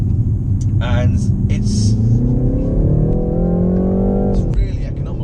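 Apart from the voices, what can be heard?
BMW 330i G20 accelerating on a kick down in sport mode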